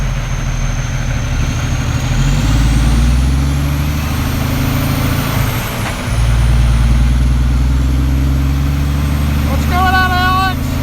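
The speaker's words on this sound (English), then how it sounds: "They want to hear her spool up. Yeah, Cummins power." A Cummins diesel truck engine drones loudly and steadily from close by, with a whining turbo spool rising and falling over it, a brief dip in the middle, and faint voices under the constant rumble.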